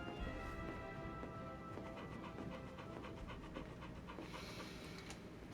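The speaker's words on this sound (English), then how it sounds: "There's a puppy." A puppy pants in a Final Fantasy XVI game scene: quick, breathy panting repeats steadily throughout over a continuous bed of game ambience.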